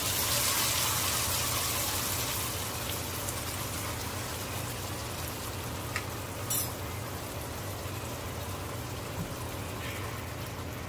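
Broth pours into a pot of lightly browned beef for carne en su jugo, a steady, close rushing gush that continues throughout, with a few small clinks partway.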